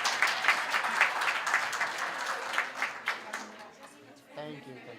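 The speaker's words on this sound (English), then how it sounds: "you can give me a round of applause" An audience at a live-streamed event claps after a speaker finishes, a dense run of hand claps that thins toward the end as a voice begins talking over it.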